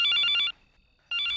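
A telephone rings with a bright, warbling electronic bell, two bursts separated by a short silent pause, loud and close.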